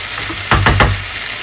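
Okra (bhindi) frying in a pan, a soft continuous sizzle with two or three quick scraping stir strokes clustered in the middle, close and fairly loud.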